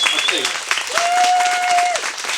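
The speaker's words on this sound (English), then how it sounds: "could I ask you all please just to give a huge round of applause to absolutely everybody here" Big crowd applauding at the 2019 Young Driver Challenge final, a dense, steady wash of clapping with a voice speaking over it and a sustained whistle-like tone midway.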